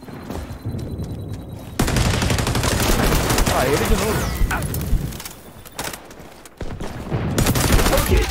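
Rapid bursts of gunfire from a video game shooter crackle loudly through most of the stretch, broken by short pauses, while someone speaks briefly over the action.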